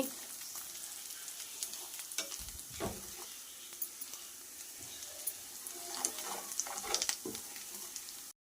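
Chicken pachadi fries in a pan and is turned with a ladle: a constant close sizzle with intermittent scraping and stirring strokes, no voices.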